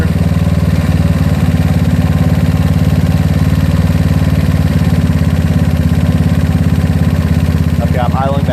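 GY6 scooter engine fitted with a PWK 30mm carburetor idling steadily, a close, even low putter that holds throughout with no revving.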